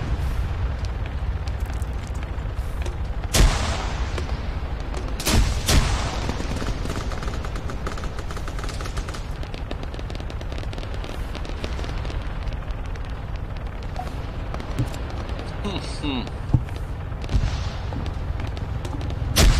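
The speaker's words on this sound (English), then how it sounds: "ko baca tolike bombe?" Bomb blasts and gunfire in the Arma video game, several loud sharp explosions breaking through a constant rumbling battle din, with scattered shots and faint distant voices over game audio.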